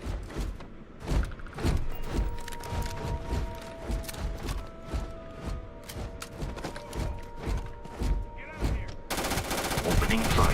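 Gunfire in the video game Starfield comes in rapid, dense bursts of automatic shots and thuds that keep going, loud and close. Faint game tones and some voice sit underneath.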